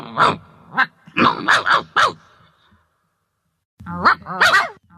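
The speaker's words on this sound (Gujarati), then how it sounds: "એક એકબીજાને ભૂરકીને સામ સામે ભસવા લાગ્યા" Dogs bark at each other in an animated children's story, two bursts of sharp, close barks and growls with a short silent gap between them.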